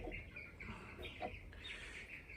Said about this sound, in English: let me try to quiet down those birds.